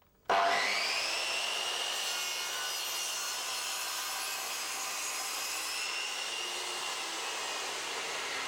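A Triton Workcentre saw making a bevel cut through wood starts abruptly, then holds a loud, steady whining cut with slight pitch shifts for several seconds, no voices.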